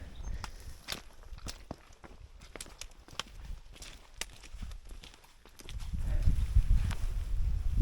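Horses walking on a mountain path along the Cumbria Way, hooves clip-clopping in an uneven rhythm of sharp knocks nearby, then a rumble of wind or movement rising toward the end.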